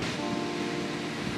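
Restless surf along the Portuguese coast on a hazy day, a soft continuous wash of breaking waves heard from a distance, with no voices.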